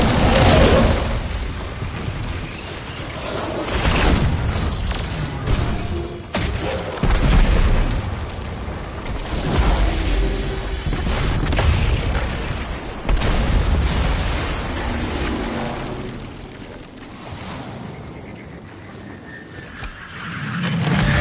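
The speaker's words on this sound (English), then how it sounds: "I heard those explosions from here." Loud, dense booms and rumbling explosions from the video game Destiny 2, a continuous barrage with heavy blasts recurring throughout, no talking over them.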